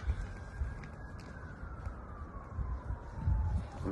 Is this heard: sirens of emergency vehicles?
yes